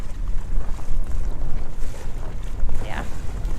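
A sail flaps and luffs in strong wind aboard a sailboat, the Navicula, off the Exumas in the Bahamas; a steady, close roar of wind buffets the microphone with irregular fluttering, and a brief voice comes in near the end.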